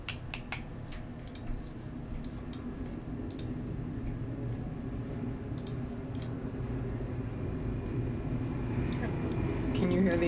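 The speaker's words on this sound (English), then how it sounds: "Can you hear the airplane?" A faint, distant airplane drone swells slowly overhead under sharp, repeated clicking, with a person speaking quietly at times.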